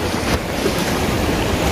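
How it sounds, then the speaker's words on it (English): Sea waves surge and churn over a sunken rock at Kuliatan Marine Sanctuary, a loud, continuous wash of surf mixed with wind buffeting the microphone, with no voices. "Where the waves keep on boiling?"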